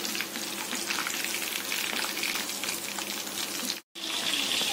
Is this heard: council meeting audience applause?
no